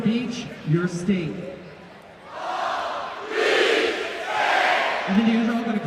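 Student section of a basketball crowd yells together on command, a broad loud roar swelling in two surges, with a voice calling out over the crowd at the start and end.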